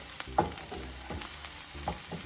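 Sliced peppers and onions frying in a pan on the stove give off a steady close sizzle, broken by a few quick stirring scrapes and taps of a utensil, fairly quiet and without talk.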